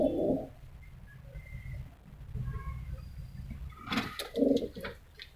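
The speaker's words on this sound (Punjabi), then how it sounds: "ਇਹ ਇੱਕ ਯਾਲਦਾਰ ਕਬੂਤਰ ਆਂਡਿਆਂ 'ਤੇ ਬੈਠੀ ਹੋਈ ਕਬੂਤਰੀ ਹੈ ਜੀ।" Pigeons coo in a loft, including a Yaldar hen sitting on eggs, giving two soft, close bursts of throaty cooing, one at the start and one near the end, with quiet ambience and faint chirps between.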